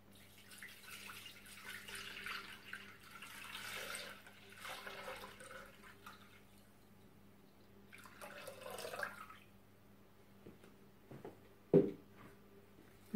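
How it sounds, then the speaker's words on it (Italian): Water is poured into a Thermomix bowl in a couple of faint bursts of splashing, followed by a few soft knocks and a sharper clunk near the end. "Inseriamo nel boccale l'acqua."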